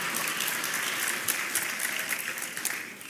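Sparse applause from a few audience members at the Faith and Freedom Coalition Conference, a steady patter of claps that fades slightly toward the end.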